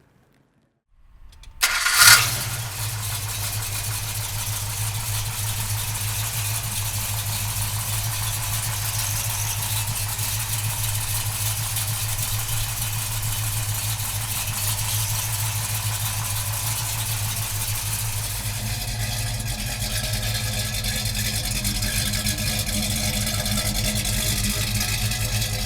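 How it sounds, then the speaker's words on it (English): The 440 engine of a 1970 Plymouth Road Runner cranks briefly and catches with a loud burst, then settles into a steady, rumbling idle that continues alone. "we'll fire this 440 up for you right now"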